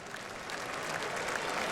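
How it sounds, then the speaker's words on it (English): Crowd at Boone Pickens Stadium during a college football game breaks into applause, a distant, faint wash of many hands clapping that swells slightly over the brief moment. "getting a nice round of applause from the crowd here at Boone Pickens Stadium tonight"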